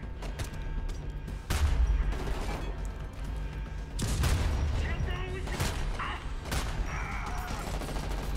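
Gunfire in Homefront: The Revolution, a few sharp bursts of shots with heavy low booms around them over a steady game ambience, loud and close, with a voice talking over it.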